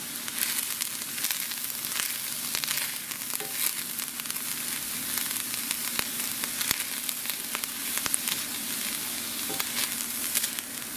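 Chopped onion frying in a pan while being stirred, giving a steady, close sizzle with light scraping and clicks throughout, and no talking.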